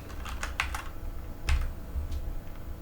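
Computer keyboard keys pressed while flying an F/A-18C in the DCS flight simulator: a few quick clicks early on, a firmer tap near the middle, then a softer press, over a low steady hum.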